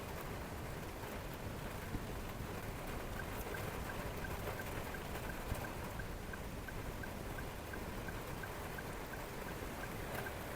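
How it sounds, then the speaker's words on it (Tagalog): Heavy rain pours down in a steady, loud, dense hiss that holds without a break for the whole stretch, with no voices over it. "inabot tayo ng isang napakalakas na ulan"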